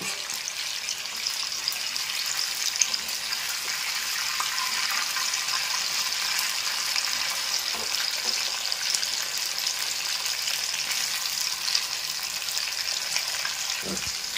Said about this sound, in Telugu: ఉప్పు కారం వేసుకొని లైట్గా ఫ్రై చేసుకుంటే ముక్కలు చాలా బాగుంటాయి